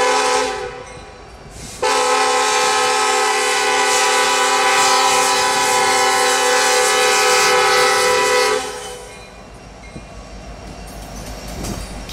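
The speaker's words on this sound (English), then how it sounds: "219 is seen departing Inman Yard, starting its journey west to Wiley, Texas, with a hot intermodal train behind them" A Kansas City Southern intermodal freight train pulls out of Inman Yard as its horn blasts loud and sustained for several seconds, then cuts off, leaving the low rumble of the moving train behind it.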